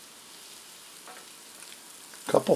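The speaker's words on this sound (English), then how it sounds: "So now that they've been cooking, on goes our pork loins." Pork loins frying in a pan give a low, steady sizzle that swells into a louder spitting crackle in the final moments, with no voices.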